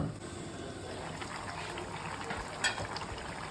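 Chicken gravy simmers in a pot, giving a soft, steady bubbling with faint liquid gurgles and one brief clink near the end, fairly quiet and with no talking.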